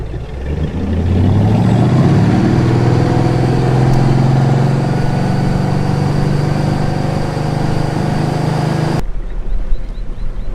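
A motorboat engine revs up, holds a loud, steady drone while underway, then suddenly drops to a quieter idle near the end.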